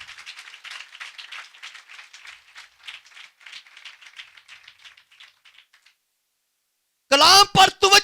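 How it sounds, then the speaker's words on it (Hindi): A church congregation claps during a sermon, a dense, moderately loud patter of applause lasting about six seconds before it stops and a voice briefly speaks. "तालियां बजानी तो जोरदार बजाएं,"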